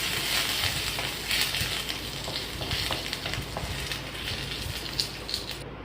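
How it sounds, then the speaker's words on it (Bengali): Panch phoron and ginger paste sizzle steadily in hot oil and are stirred gently for a mixed vegetable dish. The crackling is dense and continuous, with soft scraping strokes and no voices. "পাঁচফোড়ন দিয়ে দিয়েছি, সাথে আদা বাটা। এখন হালকা নেড়ে নেব।"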